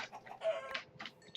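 Minecraft chickens cluck in short, close bursts, several separate clucks spaced irregularly, with no talk.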